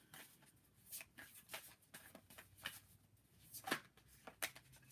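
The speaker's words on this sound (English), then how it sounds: "I'm just going to shuffle the oracles here" Oracle cards are shuffled by hand in quiet, uneven bursts of soft papery riffling and slapping, close but faint, with brief pauses between handfuls during a live tarot-style reading.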